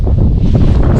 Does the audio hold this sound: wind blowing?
yes